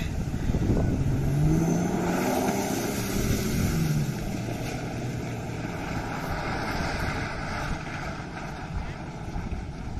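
A jeep rumbles past on a road near a heritage village in Oman, its engine and tyre noise loud at first and then easing off, with wind buffeting across the whole passage.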